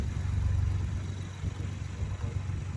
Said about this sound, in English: I hear the beautiful sounds of forced induction, aka the turbos